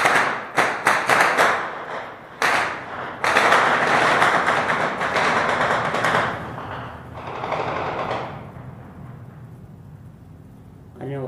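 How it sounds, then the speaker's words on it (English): Weapons firing at aircraft on a Syrian frontline: a rapid series of sharp bangs followed by sustained heavy rumbling bursts and roaring, loud and near, fading toward the end. "I don't know what kind of weapons they're using to shoot the aircraft."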